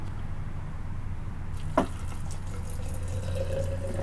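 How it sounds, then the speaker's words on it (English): Water poured into stone jars packed with toyon fruit, a short splash followed by a steady filling trickle with a rising tone, close and fairly quiet. "Next step, add water."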